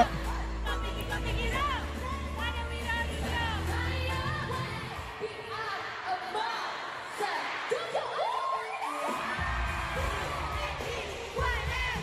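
A fanmeet crowd for BABYMONSTER in Tokyo erupts into loud, sustained cheering and high-pitched screaming that swells and dips over about twelve seconds, with voices throughout.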